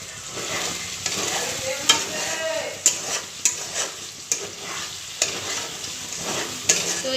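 Spice paste for a meat curry is fried down in a little oil until the oil separates. It gives a close, loud sizzle, with repeated scraping spatula strokes and clinks against the pan in an irregular rhythm.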